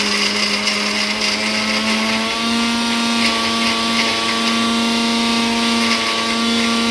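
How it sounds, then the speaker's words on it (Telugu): A mixer grinder runs continuously, grinding garlic, cumin, coarse salt and soaked tamarind for brinjal chutney. Its loud, close motor whine steps up slightly in pitch partway through and carries no speech. "ఇవన్నీ వేసి మిక్సీ పట్టాలి."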